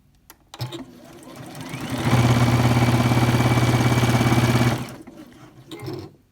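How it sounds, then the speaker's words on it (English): A Juki DX7 sewing machine speeds up to its top speed and holds a steady, loud mechanical whir with a fast needle rhythm for about three seconds, then stops abruptly, leaving brief quiet handling noises. "I'm going to run the machine on top speed just so that you can see and hear what it's like."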